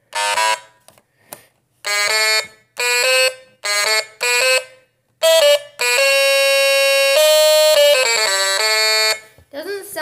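A tune played on a stylophone, a buzzy, reedy electronic tone picking out short separated notes and then a long held note, loud and close with no talk over it.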